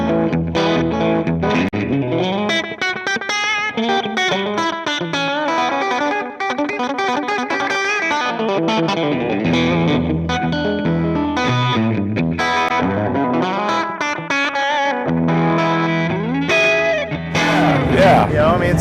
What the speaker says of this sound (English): So we can go from something like that to a really realistic kind of bluesy or rockabilly country sound.